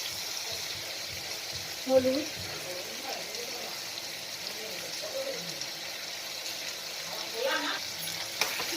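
Chicken curry base fries gently in a pan as turmeric goes in, with a soft continuous sizzle, occasional scraping stirs and a brief clink, heard at moderate level with no speech.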